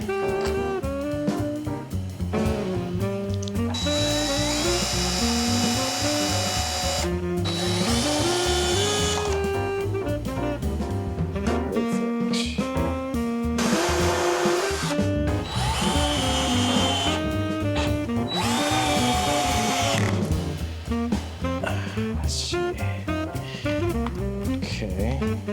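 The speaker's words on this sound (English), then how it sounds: "let's just bolt this shit on there" Power tool whirring loudly while driving bolts into a desk during assembly, in repeated sustained bursts of motor whine that stop and restart, with some background talk in a room.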